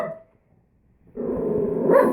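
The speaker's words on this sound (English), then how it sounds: "What are you barking at?" A dog gives a short growling bark, close and fairly loud, after a brief opening yelp and a moment of quiet.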